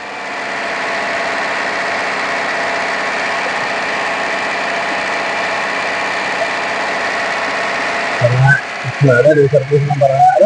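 A used car's engine, leaking oil and smoking, idles steadily and loudly for several seconds, then clanks and revs unevenly near the end.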